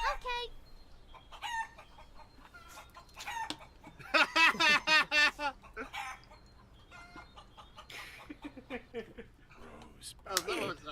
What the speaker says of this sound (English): I just have to feed the chickens.